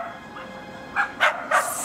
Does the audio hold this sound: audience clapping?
no